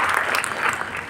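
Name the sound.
audience applause for award winners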